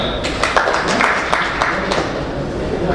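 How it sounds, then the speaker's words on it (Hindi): A crowd of partners applauds at a RailTel broadband launch event, sustained clapping from many hands, fairly loud and even throughout, with scattered sharper claps standing out. "तो उसके लिए आप लोगों के लिए जोरदार तालियां।"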